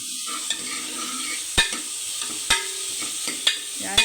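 Green chilies and garlic go into a hot pan for a green gram and onion curry, frying with a steady close sizzle while a spoon clanks sharply against the pan several times as it stirs.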